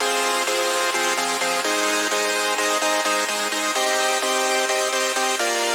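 Layered short synth presets for a progressive house track, stacked bright plucky chords stepping through a repeating pattern, dense and sustained at steady loudness with no voices.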